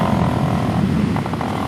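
A Suzuki DRZ400SM single-cylinder motorcycle with an FCR 39 carburetor runs close and loud, its engine settling back toward idle with a steady rumbling throb over the short stretch.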